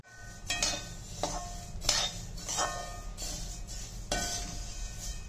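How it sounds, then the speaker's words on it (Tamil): Coriander seeds dry roasting in a pan, with a spoon scraping and clinking against the metal in several separate strokes over a low, steady background. "வந்து நம்ம மல்லியை வந்து வறுத்து எடுத்துக்கலாம்."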